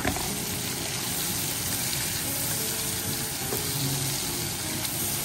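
Shrimp sizzling in avocado oil in a pan for scampi with garlic, a steady loud broadband crackle and hiss throughout with no talking.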